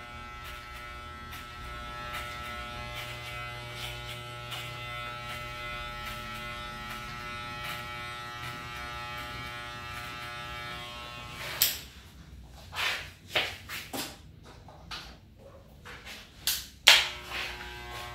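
Electric hair clippers fitted with a guard comb cutting hair during a fade haircut, a steady motor buzz and hum that later breaks into short bursts and clicks as the blades work through the hair.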